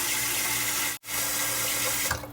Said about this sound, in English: Simply put cold water here